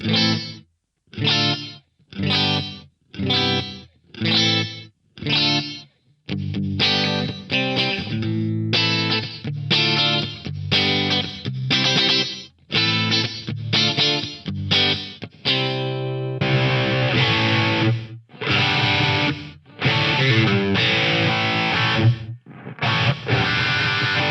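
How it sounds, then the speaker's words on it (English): An electric guitar through a Roland SRV-2000 gated reverb plays chopped chords, each one cut off sharply, first clean and then with heavier distortion, in a choppy rhythm. "I kind of like this gated sound."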